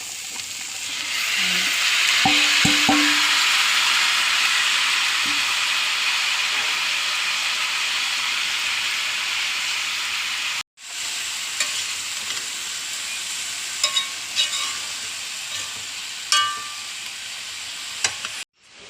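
Okra and ivy gourd frying in a pan with onions and green chillies, a loud hissing sizzle with spatula scrapes early on, then a quieter simmering hiss with occasional clinks after a brief break, no talking.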